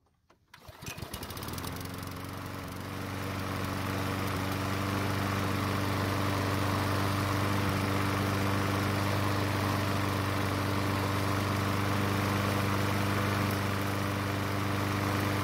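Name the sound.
lawn mower engine running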